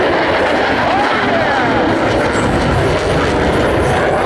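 F/A-18 Super Hornet jet making a pass at the Jones Beach Air Show, a loud, steady broadband roar that fills the whole stretch without a break, with faint crowd or commentary noise mixed underneath.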